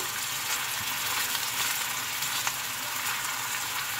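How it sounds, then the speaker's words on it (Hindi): Onions soften in a cup of reused oil, earlier used for frying kababs, in a karahi, making a dense, continuous close sizzle that holds steady throughout with no voice. "1 कप ऑयल डाला है कढ़ाई में मैंने। इसमें प्याज हम सॉफ्ट करेंगे"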